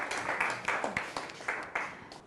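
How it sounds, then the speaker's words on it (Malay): Students in a chemistry class give a classmate a round of applause, a moderate, uneven patter of hand claps with irregular louder peaks that carries on steadily, with no talking over it. "bagi tepukan lagi sekali dekat ini tu"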